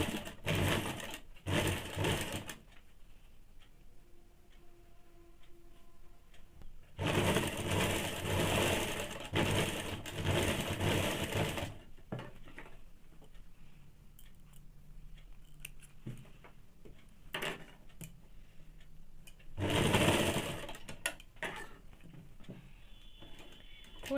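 An electric sewing machine stitches the folded edge of a high-neck blouse in three loud, sustained bursts of rapid whirring, separated by quiet pauses with faint handling of fabric.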